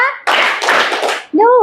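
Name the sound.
class clapping hands in a counting game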